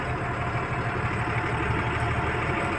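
A truck engine runs steadily as the vehicle starts to pull away, a continuous rumbling drone with mid and low tones, fairly close and even in loudness, with no talking.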